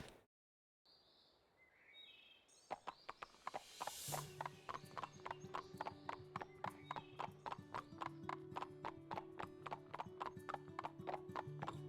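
Horse hooves in the Barbie Horse Adventures: Wild Horse Rescue video game clip-clop in a steady, even rhythm after a brief neigh, with birdsong in the background, close and clear, with no talking over them.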